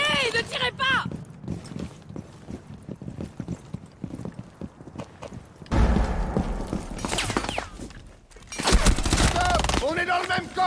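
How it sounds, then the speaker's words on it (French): Rapid bursts of allied gunfire ring out in the tactical shooter Rainbow Six Siege, sharp repeated shots and volleys mixed with game noise, while a voice shouts over them. "Cessez le feu! Cessez le feu! Alliés, ne tirez pas!"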